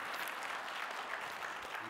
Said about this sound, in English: Can you give a round of applause for the volunteers?